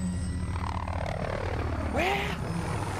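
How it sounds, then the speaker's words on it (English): Helicopters roar at the start of a video game match, a loud continuous rotor and engine drone filling the scene while a voice speaks briefly over it. "these helicopters in the beginning of these matches just are way too loud."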